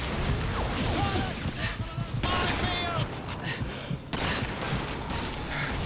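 Gunfire crackles through a World War II battle in Call of Duty 2, with repeated shots and sharp bursts, some distant and some close, continuing throughout.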